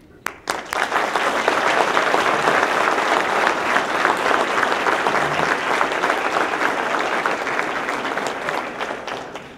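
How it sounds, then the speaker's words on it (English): Sustained applause from a large audience at a fire and rescue department awards ceremony, honoring award recipients; steady, dense clapping fills nearly ten seconds at full strength, fading slightly toward the end. "So I would like to have you join me in applauding them."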